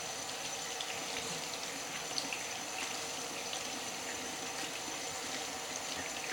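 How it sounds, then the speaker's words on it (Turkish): Fresh water runs steadily from a tap, rinsing soap foam off a washed trolley, a constant close rushing splash with no voices. "şimdi şöyle yeni bir suyla bir arındırıyorum köpükleri"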